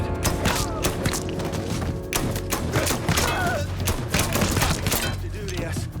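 Gunfire in the video game Mafia III, a dense run of rapid shots and thuds that continues for several seconds, loud and close, mixed with game sounds.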